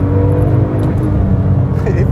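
A Porsche 911 GT2 RS or Mercedes SLS AMG Black engine roars loud and close, revving hard as it accelerates, a dense, continuous growl from inside the vehicle.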